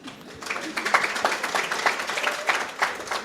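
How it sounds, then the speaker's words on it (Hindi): Audience clapping at a spiritual satsang question-and-answer session, a moderate burst of hand claps with irregular sharp peaks, fairly close and steady for a few seconds with no talk over it. "तालियां उनको ज़्यादा मिलती है."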